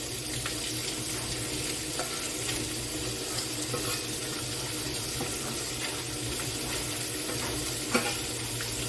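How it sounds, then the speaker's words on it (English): Polish sausage pie ingredients sizzling in a hot cast iron skillet, a steady dense crackling fry with scattered small pops and occasional stirring clicks, loud and continuous with no voices. "You can hear the sizzle when you're using cast iron."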